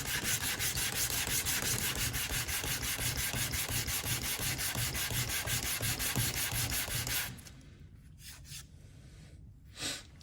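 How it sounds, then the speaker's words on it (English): Sandpaper sanding a leather strop on a flat surface rubs steadily back and forth for several seconds, then stops abruptly, leaving quiet with a couple of faint scrapes. "I just set it on a flat surface. The flat surface is important, and I just sand it down."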